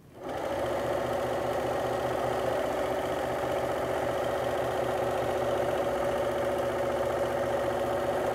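Domestic sewing machine stitching a pillowcase at an angle, running in one long steady burst with a fast, even mechanical chatter close up, no talking.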